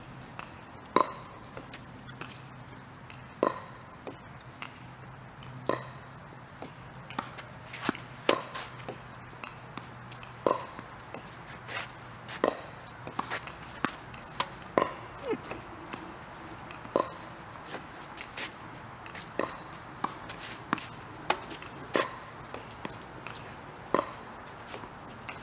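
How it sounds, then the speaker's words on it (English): Pickleball rally with paddles striking the ball, sharp pops repeating at an uneven rhythm through a long exchange, moderately close, with faint background noise between hits. "Sound of pickleball."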